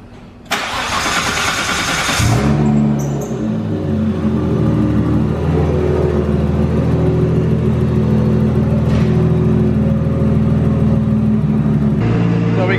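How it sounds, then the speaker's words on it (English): A car engine in a garage is started after its radiator was refilled with coolant: a brief crank catches into a loud rev, then settles into a steady, close, low idle rumble that runs to the end. "got the car idling"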